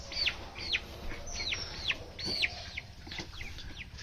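Seventeen-day-old farm chickens give thin, repeated downward peeps at a moderate distance, spaced irregularly over a low background hiss.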